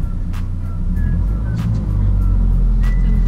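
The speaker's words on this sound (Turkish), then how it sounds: "Araba geliyor artık." A car approaching at night, a loud low engine rumble that grows slightly stronger, heard from inside or near a vehicle with faint clicks and short high tones over it, no talk.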